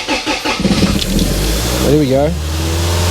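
A Toyota Altezza SXE10 engine fitted with individual throttle bodies cranks briefly, fires, and settles into a loud, rough, uneven idle close by, while someone speaks over the start.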